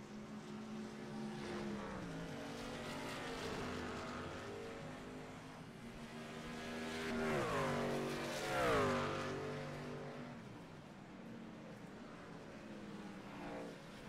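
Race trucks roar around the Watkins Glen road course in an NTRL Truck Series event, engines droning steadily with two loud passes swelling and rising in pitch near the middle, no talk heard.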